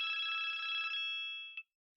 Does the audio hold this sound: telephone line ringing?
yes